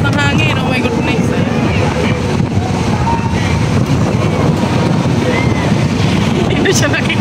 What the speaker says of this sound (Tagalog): Lakas ng hangin, oh my goodness.